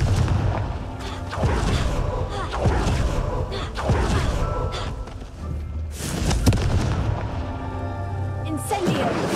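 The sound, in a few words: Confringo exploding spell in video game Hogwarts Legacy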